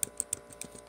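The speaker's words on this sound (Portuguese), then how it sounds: "Tô digitando aqui" Light taps on a Divent P60 tablet's on-screen keyboard, a handful of sharp clicks spaced unevenly across a second, close and faint with no voice.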